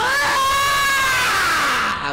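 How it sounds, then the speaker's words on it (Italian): A single person lets out a long, loud scream on request, a sustained high-pitched cry that wavers slightly in pitch and holds for about two seconds before cutting off. "Mi faccia un urlo."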